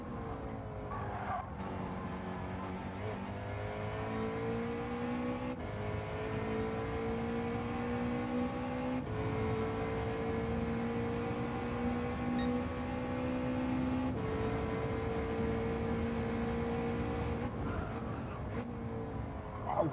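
Two or more race cars in Gran Turismo 7, a BMW and a Nissan GT-R among them, run side by side in a lobby race, engines droning steadily with rising harmonic whine through gear changes and faint tire noise throughout.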